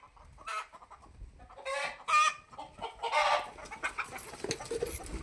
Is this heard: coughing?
no